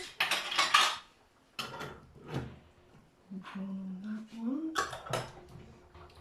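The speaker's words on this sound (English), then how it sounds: "Just put my lids, which have just been resting on the draining board." Canning jar lids clink and rattle as they are picked up from a kitchen draining board, a few metallic clatters in bursts with a person talking in between.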